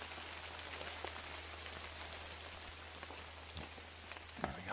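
Steady rain falls on a surface outdoors during a sunny summer mushroom hunt, a dense continuous patter with scattered louder drops, no talking.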